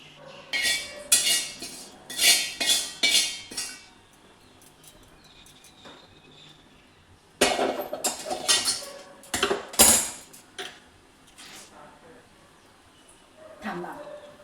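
Dishes and cutlery clatter in two bursts of close, sharp clinks as crumbled bhakri is served onto a plate, separated by a quieter gap, with a voice talking in between.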